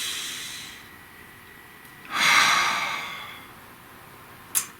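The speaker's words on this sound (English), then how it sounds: "Breathe." A single deep, audible breath is drawn in and let out close to the mic, a soft airy rush lasting about a second amid otherwise quiet room tone.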